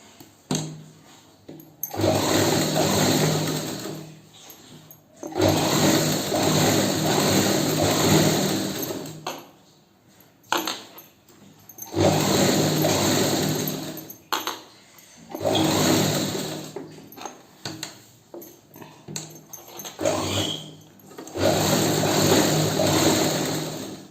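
A sewing machine stitches fabric in loud, close whirring runs lasting several seconds each, separated by short pauses.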